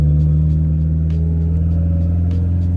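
A Dodge SRT4 pulls away in gear at low revs, a loud steady engine rumble with a deep hum and faint periodic ticks, close and without talk.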